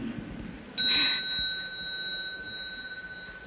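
A single bell struck at a Buddhist holiday retreat rings out once with a bright, clear tone that lingers and slowly fades, heard fairly close in a quiet room.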